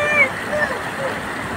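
Glacier meltwater roars down the Shrunz waterfall in the Himalayas, a loud, close, steady rushing wash with a brief splash near the start and a voice faintly mixed in.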